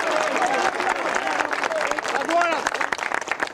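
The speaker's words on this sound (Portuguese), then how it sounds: "Obrigado mesmo, obrigado pelas palmas!" Crowd at a gathering clapping in a rural Brazilian drama scene, a busy patter of applause mixed with voices and chatter, varying in density and persisting under the talk.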